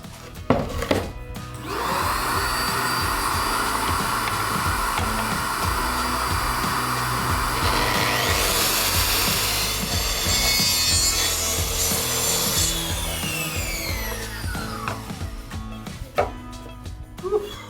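Steady handsaw sawing through a wooden camper van partition to join a row of drilled holes, continuous rasping strokes close by and loud, with a brief knock at the start and end.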